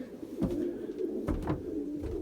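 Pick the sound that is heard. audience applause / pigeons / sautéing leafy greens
pigeons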